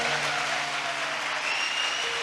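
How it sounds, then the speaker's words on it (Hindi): A church congregation claps for the Lord, dense steady applause filling the room throughout, with a faint tonal hum underneath. "Come on, give a good clap for the Lord."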